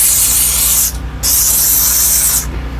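A steam cleaner jets steam onto a car during detailing, two long, loud, close hissing bursts separated by a brief pause, with a low mechanical hum beneath.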